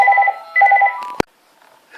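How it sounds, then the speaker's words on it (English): A landline telephone rings in two electronic trilling bursts, loud and close, then a sharp click as the handset is picked up, followed by near silence. "there's the phone again"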